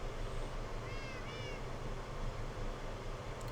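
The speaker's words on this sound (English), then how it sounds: "Kitties." Minecraft cats meowing, two short high mews close together near the start, over a steady game background rumble with no talking.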